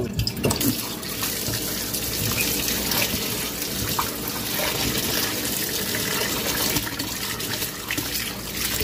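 Running tap water splashes continuously into a bowl, with occasional sloshing and clatter as black-eyed peas are rinsed by hand, close and fairly loud.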